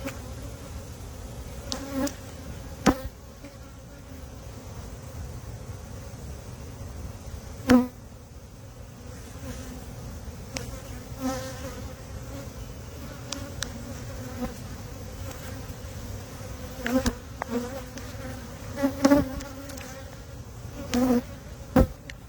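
Honey bees in a hot hive box hum in a steady, continuous drone, with sharper buzzes of individual bees passing close by now and then.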